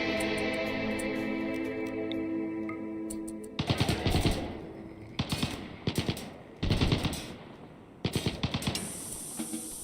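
Bursts of automatic gunfire from a modded colony video game, several rapid volleys with gaps between, loud and close, after a stretch of quieter ambient tones and clicks.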